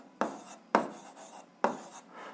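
Pen or pencil writing out a math answer by hand on paper, three separate scratchy strokes, each with a sharp onset that fades, close and fairly quiet, no talking.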